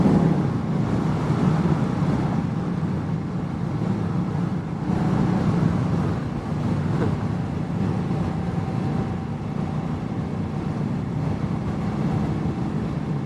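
A 2016 Indian Scout cruiser motorcycle rides at about 60 over a bumpy highway patch, with a steady broadband roar of wind and road noise and a low engine rumble throughout, and no talking.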